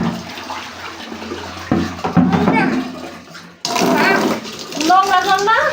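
Water splashes and pours in a bathroom while a small child is bathed and has their head washed, with steady running and sloshing throughout and voices talking over it.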